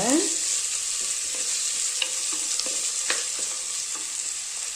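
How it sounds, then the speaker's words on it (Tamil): Onions for gongura kadaiyal sizzle steadily in a hot pan, with occasional scrapes and stirring taps over the constant frying hiss. "கொஞ்சம் வெங்காயம் அதிகமாகவே போட்டுக்கோங்க. இது நல்லா வதக்கிக்கலாங்க."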